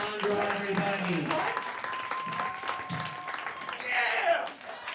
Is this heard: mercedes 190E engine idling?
no